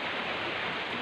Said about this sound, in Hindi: 4 बज गए फिर भी बारिश रुका ही नहीं।